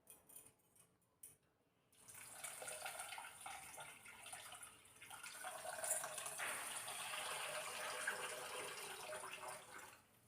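After a quiet start, water pours steadily onto washed rice, a continuous splashing flow lasting to the end, fairly faint overall.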